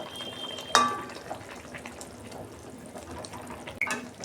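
Boiled soybean chunks are poured out of a pot, giving a soft, quiet splash and trickle of water with a couple of sharp clinks of cookware.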